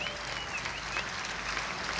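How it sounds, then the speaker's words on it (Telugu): A church congregation applauds in a steady, even burst of clapping that fills the whole moment without pause, fairly faint and slightly distant. "ఇది మీరు సంతోషంగా చప్పట్లు కొట్టుకొని ఆనందపడాల్సినటువంటి ఘట్టం"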